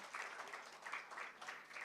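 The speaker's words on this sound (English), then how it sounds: "So please keep applauding and make some noise." Audience applause at a live Women Power face-to-face event at India Habitat Centre, faint, dense clapping that continues steadily without voices.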